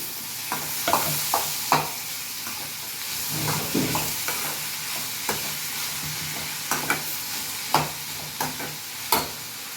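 Chopped tomatoes sautéing in a pan for mint chutney, a continuous hissing sizzle broken by sharp spoon scrapes and clicks every second or so, close up with no talking.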